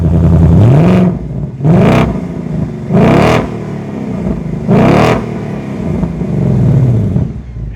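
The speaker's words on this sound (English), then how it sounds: "that unmistakable, wonderful sound of a Mustang V8 with the performance exhaust sounds absolutely amazing" A 2025 Ford Mustang GT V8 with performance exhaust revs hard four times in quick succession, each deep roar rising then falling back to a burbling idle, loud and close.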